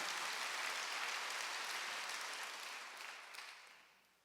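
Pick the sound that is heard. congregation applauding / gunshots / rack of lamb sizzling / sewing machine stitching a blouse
congregation applauding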